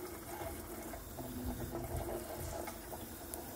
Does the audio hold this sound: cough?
no